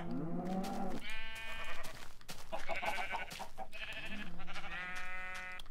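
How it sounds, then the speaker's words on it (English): Sheep in a video game farming village bleat repeatedly, several wavering calls overlapping in a steady run, close and clear with no talking. "and the sheep."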